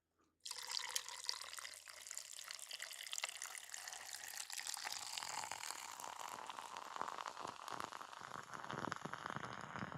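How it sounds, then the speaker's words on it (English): A frothy drink poured steadily from a freshly opened container, a continuous splashing, bubbling stream that begins abruptly and keeps going near and clear, with fizzing growing toward the end. "The pour is steady and doing well. It's not overflowing."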